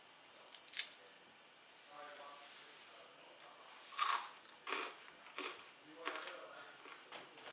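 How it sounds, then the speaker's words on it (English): Fried cassava chips are bitten and chewed up close, giving a series of sharp, crisp crunches spaced a second or so apart against a quiet background. "These chips are super crunchy and make a delicious snack."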